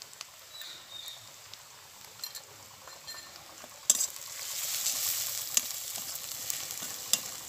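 Chili powder and turmeric frying in hot oil with browned garlic, a steady soft sizzle that swells louder about halfway through, with occasional light stirring clicks.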